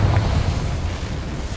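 A Confringo fire spell from Hogwarts Legacy blasts off in one loud, deep rumbling explosion that rolls on steadily for its whole length, with no voices over it.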